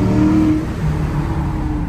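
Engine of a 400-horsepower car revving and accelerating nearby, a loud steady low drone with a rising tonal whine, continuous through the whole stretch with no voices.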